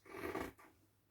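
Fabric scissors cutting through folded Tencel fabric for a menstrual underwear piece, a single brief close rasping snip fading quickly, quiet and alone.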